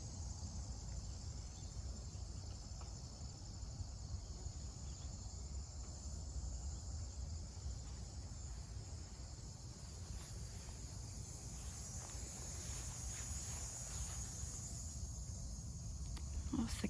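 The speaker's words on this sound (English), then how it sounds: "Oh, cicadas." Cicadas drone in a late-summer garden among rose bushes, a steady high, shrill buzz held without pause under faint wind.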